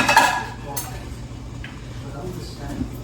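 Metal cookware clanks and scrapes as a pan is handled, with a few light clinks over a low background hum.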